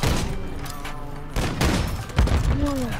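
Bursts of gunfire from the video game Call of Duty Modern Warfare 3 crack through a trickshotting match, several sharp shots and booms at close range with some game sounds between.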